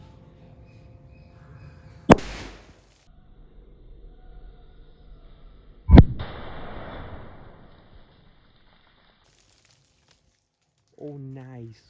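A firecracker set inside a bottle buried in the ground detonates with two sharp, loud bangs a few seconds apart, the second followed by a brief hissing rush, with a short burst of voice near the end.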